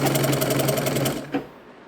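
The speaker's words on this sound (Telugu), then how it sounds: "హాఫ్ ఇంచ్ పట్టితో మడుచుకొని చక్కగా పైనుంచి మడతపెట్టి కుట్టేస్తున్నాను" A sewing machine runs a steady, rapid stitch along a folded half-inch hem on a blouse lining, close and continuous for over a second before stopping with a brief clunk.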